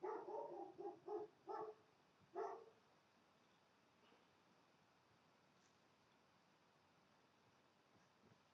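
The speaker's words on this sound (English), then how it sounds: "dog is barking" A neighbour's dog barks about half a dozen times in quick bursts, muffled and somewhat distant, before falling quiet, leaving only faint room hiss.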